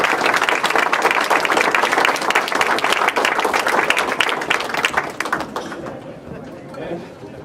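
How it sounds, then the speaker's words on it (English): A crowd at an art unveiling and artist's talk in Haines Junction applauds a craftsman's work with loud, dense clapping that holds steady and then tapers off quickly, leaving scattered claps and murmurs. "I'd like a round of applause for Ken and his work."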